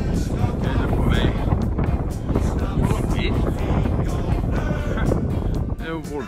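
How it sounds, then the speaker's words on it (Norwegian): Strong wind buffets the microphone outdoors in a steady, loud roar with gusty low rumble throughout, while a person talks over it. "Det er jo voldsomt så det blåser."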